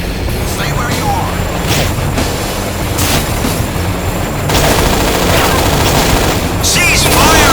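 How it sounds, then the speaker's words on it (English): Rapid video game gunfire, bursts of automatic shots and booms in a continuous loud barrage, with voices shouting over the battle. "Cease fire, Linux"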